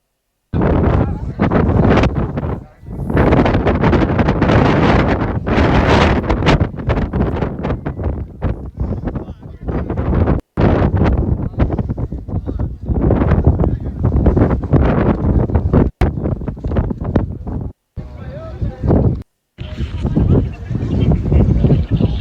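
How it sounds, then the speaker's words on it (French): Strong wind buffets the microphone almost without pause on an outdoor trip to Mecca, a loud, low roaring rumble with only a few brief dropouts. "Il y a trop de vent donc je zappe."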